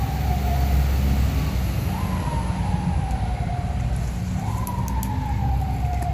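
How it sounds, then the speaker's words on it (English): A wailing siren in New York City rises and falls in slow repeating sweeps over loud, steady street and traffic noise, with the siren fairly distinct above the rumble. "we right in New York, so you're gonna always hear cop cars."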